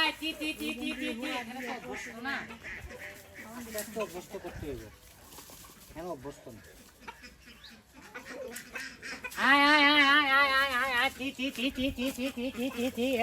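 Domestic ducks on a poultry farm quacking and honking in repeated bursts nearby, loudest in a raucous stretch near the end, mixed with people talking.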